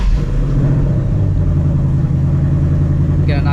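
A 2024 Ford Mustang GT on its stock exhaust accelerating hard, with a loud, deep engine rumble climbing steadily in pitch, close and continuous.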